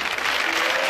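A studio audience claps loudly and densely on a Spanish TV game show, a dense wash of applause filling the whole short moment.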